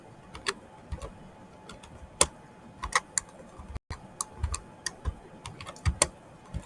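Irregular clicking of keys on a computer keyboard, close and fairly quiet, in short bursts with brief pauses; no talking.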